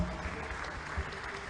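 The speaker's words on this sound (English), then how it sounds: "please give them a round of applause." An audience at a student debate contest applauds briefly, a soft, fairly distant patter of clapping that sounds fairly quiet.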